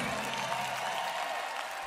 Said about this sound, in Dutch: Een groot applaus voor deze fantastische meiden